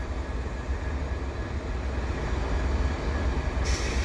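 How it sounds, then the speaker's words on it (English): A double-stack freight train passes at Dorval with a steady, loud rumble of wheels and cars rolling by, holding constant throughout with no voices. "And this is the double stack train."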